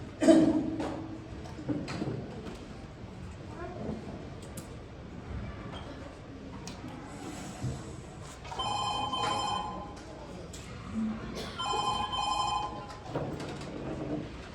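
A telephone rings on stage during a Marathi one-act play competition performance, with two separate bursts of bright repeated ringing about three seconds apart over faint room murmur and light stage noises.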